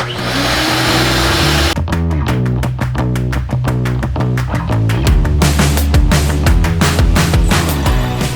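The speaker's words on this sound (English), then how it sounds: "then we'll get the shop vacuum" Shop vacuum cleaning out a drained backyard saltwater tide pool, a loud steady motor drone that turns into rapid choppy rattling and slurping as debris and water are sucked up, continuous and close.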